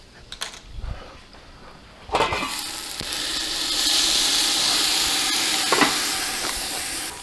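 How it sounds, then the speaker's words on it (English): Beef stew in a lidded pot sizzles and steams with a steady broadband hiss that swells after a couple of seconds and holds loud and close, with a few faint clinks early on. "put a lid on that and let that steam for just a minute"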